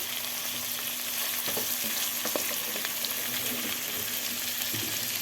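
Leftover chicken fries in a pan with a steady, close sizzle as it is stirred, with soft scraping and clicking of the utensil throughout.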